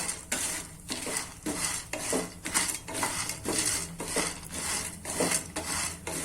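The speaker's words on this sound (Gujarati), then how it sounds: "આ રીતના આપણે ધીમા ગેસ ઉપર શેકાવા દેશું." Pieces of mango seed roasting in ghee over a low flame, stirred with a spoon: steady rhythmic scraping strokes about twice a second against the pan, close and moderately loud, with no talking.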